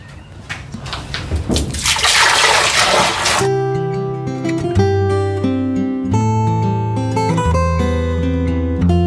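Water splashes and sloshes while a toilet in a home bathroom is washed, a loud rushing burst for a few seconds before music takes over.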